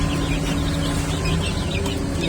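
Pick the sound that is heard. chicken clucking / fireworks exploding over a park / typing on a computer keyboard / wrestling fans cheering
chicken clucking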